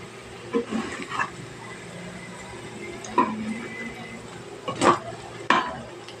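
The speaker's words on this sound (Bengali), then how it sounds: "এইভাবে ঠিক কড়া করে ভেজে নিতে হবে ফুলকপির বড়া" Cauliflower fritters fry crisply in hot oil under a steady low sizzle, with a few clinks and scrapes of a spatula turning them, no voices.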